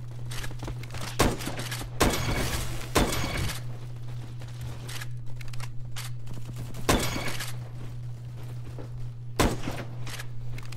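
A ten-shot gun fires in a video game: sharp, loud shots come singly and in short clusters at irregular intervals over a constant low electronic hum.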